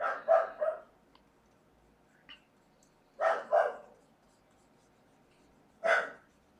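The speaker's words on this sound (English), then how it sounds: "I was waiting for my dog to stop" A pet dog barks in short bursts at home: a quick cluster of three barks, then a pair a few seconds later, and one final bark. The barks are moderately close against a quiet background.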